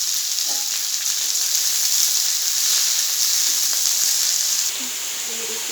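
Chopped Malabar spinach greens frying in hot oil with dried red chili and five-spice tempering, a loud, steady close sizzle and hiss that eases slightly near the end.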